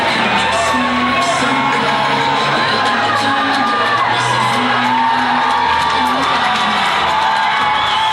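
Highlands Golden Rams fans roar at a high school basketball game against West Allegheny, loud continuous cheering with whoops and yells, and tonal horn-like notes rising through the din.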